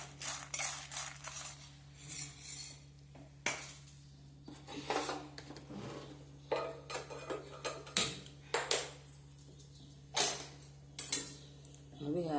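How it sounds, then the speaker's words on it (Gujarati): Jamun seed mukhvas roasts in a pan, giving irregular bursts of light crackling, ticking and metallic scraping as it is stirred; the sounds are close but fairly quiet, with quiet gaps between bursts. "આપણો મુખવાસ જો કડકડ્યું આપણે અવાજ સાંભળી શકો છો તળાઈ ગયો"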